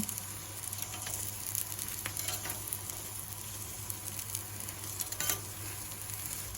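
Fish sizzles on a grill pan with a continuous, moderately loud hiss, dotted with small crackles and a low steady hum underneath.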